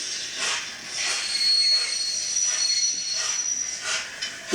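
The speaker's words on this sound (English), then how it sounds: "Brake squeal." A DCC sound decoder in a model locomotive plays a brake squeal: a high, metallic screech that wavers and pulses in repeated surges over a rail hiss, with a thin tonal whine briefly rising through it.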